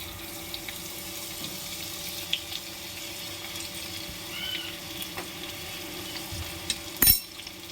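Finely crushed garlic sizzling in a spoonful of hot oil for a tadka, a steady soft hiss with faint crackles and a brief louder clatter near the end.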